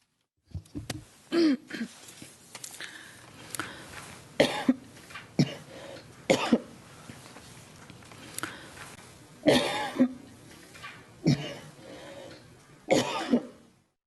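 A series of sharp coughs repeats over and over, loud and close, with short pauses between each burst and a few throat-clearing sounds.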